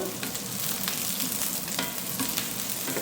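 Green chillies sizzle and crackle in hot oil while noodles fry, a steady close hiss with small pops and stirring scrapes throughout.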